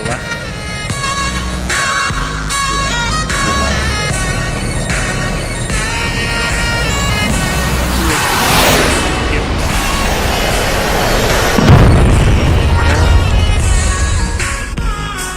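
Blue Angels jets cross each other at an airshow in the video game VRChat. A loud, continuous jet roar swells into a close pass whose pitch sweeps downward, with other layered game sounds underneath.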